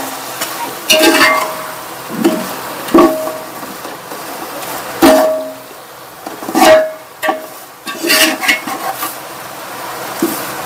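Onions sautéing in a pan with rock salt, a low sizzle running underneath as a spoon stirs and scrapes, giving several sharp clinks and clatters spaced a second or two apart.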